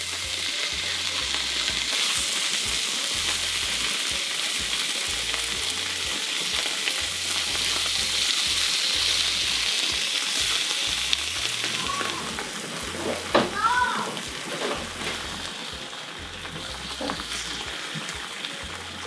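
Cheese frying in a lightly oiled pan makes a close, even sizzle that runs steadily, then softens toward the end as a few light clinks and scrapes break through.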